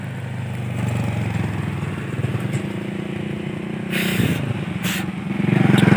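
Motorcycles and cars pass on a road in very hot weather, giving a steady rumble of idling and running engines with a louder vehicle swelling near the end and brief hissing bursts midway.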